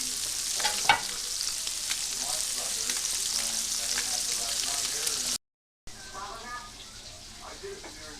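Salmon fillet coated in olive oil and seasoned for blackening, frying in a hot pan with a steady, bright sizzle and crackle, close up, with a brief cut to silence before the sizzling resumes.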